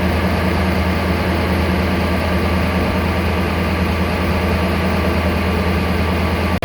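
A 1991 Ford F250 engine idles with a loud, steady low drone and a constant hum that stays even throughout, with no talking over it.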